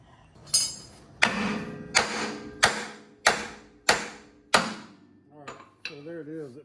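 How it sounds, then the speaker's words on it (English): A hammer strikes a pickle fork wedged into the front suspension of a 1967 GTO, giving seven loud, sharp metallic blows at a steady pace, followed by a brief clink and a voice. "I'm going to use the pickle fork here, and I've already got it driven in. I'm just going to keep hitting it until it wedges itself in between there and pries it apart."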